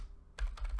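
Quick keystrokes clatter on a computer keyboard while a Cisco router command is entered, a short burst of four or five close, crisp taps after a brief quiet start.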